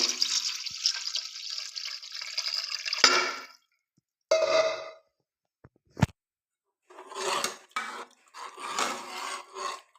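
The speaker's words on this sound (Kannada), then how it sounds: "ಈಗ ನೀರ್ ಹೈಕಂತಿದ್ದೆ" Water pours into a pot of cooking dal in bursts, with a hissing, splashing rush that fades, then short trickles, a sharp knock and two more splashy pours.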